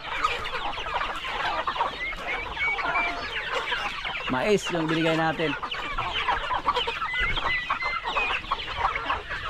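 A flock of farm chickens fed corn clucks continuously and busily nearby, many birds overlapping throughout, while someone speaks briefly partway through.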